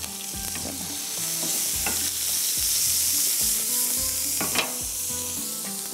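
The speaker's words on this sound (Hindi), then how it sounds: "यहाँ पर ग्रिल पैन पर हम डालेंगे बटर थोड़ा सा और थोड़ा सा ऑयल" Butter and a little oil sizzle on a grill pan while a paneer shashlik sizzler is prepared, a steady close frying hiss with intermittent scrapes and knocks of stirring, with no speech.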